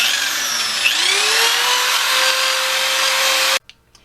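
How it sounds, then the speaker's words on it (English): Bench buffing wheel polishing parts of a Kawasaki Ninja motorcycle: a steady, loud motor whine that spins up, holds a rising tone, then cuts off abruptly near the end. "just hit it with the old buffing wheel a little bit"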